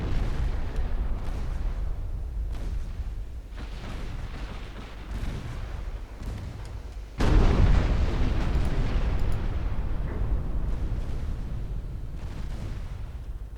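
Naval battle in Ultimate Admiral Dreadnoughts as torpedoes sink ships: continuous deep rumbling explosions roll on throughout, with a sharp, heavy blast partway through followed by sustained booming.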